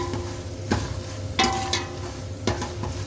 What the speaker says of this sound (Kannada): ನಾವು ಬ್ಯಾಡಗಿ ಮೆಣಸಿನ್ಕಾಯಿ ಉಪಯೋಗಿಸ್ತಾ ಇರೋದ್ರಿಂದ ಅದನ್ನೇ ಹಾಕ್ತಾಯಿದ್ದೀನಿ ಒಗ್ಗರಣೆಗೆ.